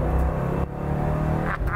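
1967 Ford Mustang engine revving hard and accelerating, a loud close rumbling roar with a brief dip and surge partway through.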